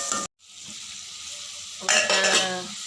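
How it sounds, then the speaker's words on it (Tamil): Onion and tomato frying together in hot oil for a prawn fry, a steady sizzle broken by a brief silent gap, then louder stirring and scraping toward the end. "வெங்காயம் தக்காளி ஒன்றா வணங்கி வந்துடும்."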